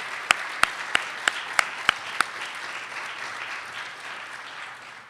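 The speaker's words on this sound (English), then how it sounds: "please join me in a round of applause for Chris" Audience applause for Chris Lorway at the Luminato Festival announcement: a dense, steady wash of clapping from a large crowd, with a few loud individual claps near the start standing out above it before the sound gradually thins.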